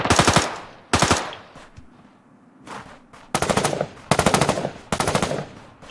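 Bursts of rapid automatic gunfire in the video game PUBG come in loud repeated volleys separated by short pauses, with a few quieter distant shots between them.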